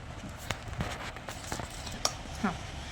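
Cornflour whisked into oil in a bowl for shankarpali and karanji dough, giving soft scraping taps and stirring clicks at a steady, close, fairly quiet pace.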